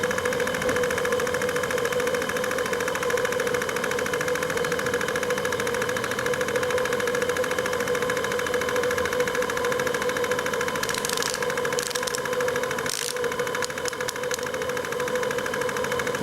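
A small engine runs steadily in reverse gear with a continuous chugging drone and knocking rhythm, close and loud throughout, with a few brief sharp clatters near the end.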